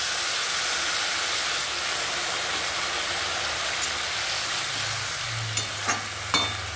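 Okra fries in a pan and sizzles steadily with a bright, hissing crackle as tamarind water is poured in, while a few utensil clinks and taps sound near the end.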